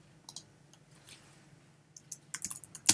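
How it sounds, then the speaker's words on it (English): Sparse computer keyboard clicks as text is typed into an InDesign page layout, a few isolated taps at first, then a quicker burst of keystrokes ending in one sharp strike; no one speaks. "So if we click and drag and we type our text in"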